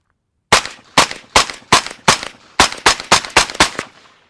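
Eleven loud, sharp rifle shots fired through a Rugged Micro30 suppressor with supersonic ammunition, spaced in a fairly quick, slightly uneven rhythm with a short pause midway, each one a close crack followed by a brief decay.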